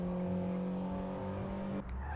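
A small car in the GTA V video game skids and drives along a mountain getaway, engine roaring steadily with squealing tires throughout, loud and close, cutting off abruptly near the end.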